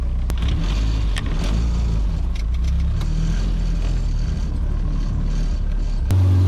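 An Acura Integra drives at a steady low cruise around 2000 RPM and about 21 mph, its engine a continuous loud, even drone from inside the cabin, with a brief thump near the end.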